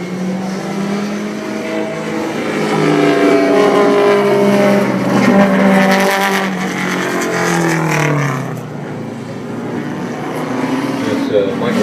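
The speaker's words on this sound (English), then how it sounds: "Good smoke here coming from this Spitfire we're seeing coming for us." A 1973 Triumph Spitfire race car, smoking, passes at the Put-in-Bay Road Race Reunion, its engine droning loudly and rising and falling in pitch as it comes closer. An announcer talks over the engine throughout.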